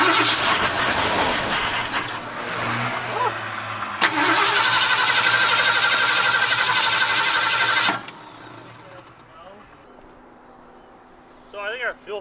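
A flooded truck engine cranks with a rough whine, then fires and runs steadily for several seconds before cutting out, leaving insects chirping faintly outdoors.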